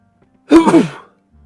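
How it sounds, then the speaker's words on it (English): A single sharp sneeze bursts out close to the microphone, loud and brief, with a short airy tail and near silence on either side. "Sorry, I was trying my best to mute the microphone before I sneezed."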